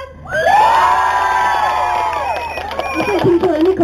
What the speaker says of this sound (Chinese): 觉得掌声比较强一点